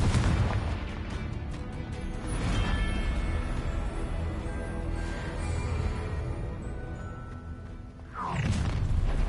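Confringo blasting spells in Hogwarts Legacy burst with booming, crackling explosions, a big blast near the start and another near the end, and rumbling debris and magical effects fill the gaps between them.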